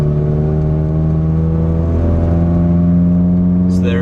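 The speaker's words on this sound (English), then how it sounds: "go ahead and take it on a test drive just to warm up the transmission" A 2005 Chrysler Sebring driving on a test run with fresh transmission fluid, its engine humming steadily and loud from inside the car, pitch holding fairly even as it moves through the gears.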